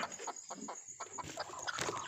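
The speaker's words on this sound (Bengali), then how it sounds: "আগে মুরগিগুলা ধইরা খোপে দিয়ে নিই।" Chickens being caught and put into the coop give quick, agitated clucks close by, with a steady faint hum behind them.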